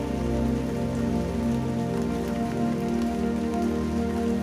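Rain falls steadily on a surface, a dense, even wash of patter that holds at a constant loud level throughout with no voices.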